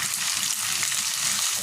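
Chicken skin sizzling in a pan of lightly fried onion with whole cumin seeds, a steady close, dense hiss with faint stirring scrapes, no voices.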